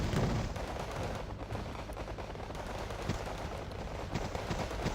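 Gunfire from a Hind helicopter in the video game Wargame Red Dragon, a dense crackling barrage of shots and impacts running continuously at a moderate distance.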